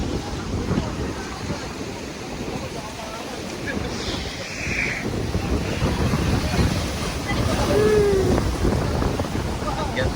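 Wind buffets the microphone over steady surf on a Quezon beach, with a constant rumbling roar of waves and gusts throughout, plus a few faint chirps or whistles in the background.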